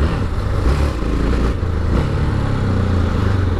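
A Yamaha XT660 motorcycle rides along, its engine droning loud and steady with a constant low rumble and wind noise throughout, no voices.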